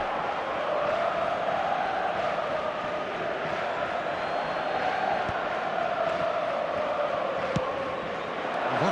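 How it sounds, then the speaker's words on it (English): A stadium crowd in the eFootball video game keeps up a steady, swelling roar of chanting and cheering for the whole stretch. The sound is constant and fairly loud, with no clear breaks. "the crowd are reacting to that now"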